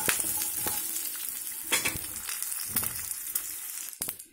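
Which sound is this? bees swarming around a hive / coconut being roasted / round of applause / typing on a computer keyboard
coconut being roasted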